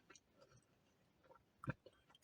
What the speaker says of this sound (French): je vais déguster des petites frites de chez Becca